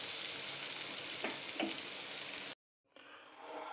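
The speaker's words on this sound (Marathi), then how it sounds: "आपली भेंडी छान झालेली आहे फ्राय" Okra sizzling steadily in a pan as the gas is about to be switched off, a loud continuous fry with a couple of small pops, cutting to silence briefly before the frying resumes.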